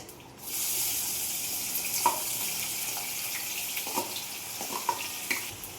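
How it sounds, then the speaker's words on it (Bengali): Chopped onion and green chili sizzle steadily in hot oil in a pan, a continuous bright hiss with occasional soft pops and stirring clicks, close and fairly loud, no voices. "তো পেঁয়াজটা একটু ভাজিয়ে নিতে হবে হালকা লাল"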